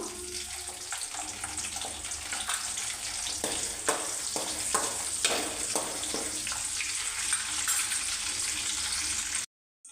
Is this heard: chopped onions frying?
yes